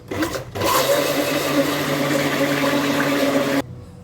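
Kitchen blender whirring steadily at high speed as oil is dripped in gradually to whip a mixture thick, a continuous loud motor drone after a brief start, then cutting off abruptly near the end.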